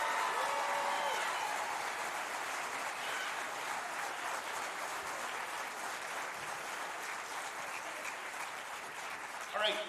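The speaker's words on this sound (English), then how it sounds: "One more round of applause for these awesome young people who worked so hard." Audience applause at a sixth-grade school band holiday concert, a broad, steady wash of clapping from a large crowd that holds for about ten seconds.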